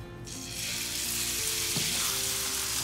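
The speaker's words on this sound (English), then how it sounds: "I'm just gonna let the pan heat up a little bit with some butter" Butter sizzling in a hot frying pan before spiny lobster goes in, a hiss that swells quickly and settles into a steady close crackle with a faint clink partway through, no voices.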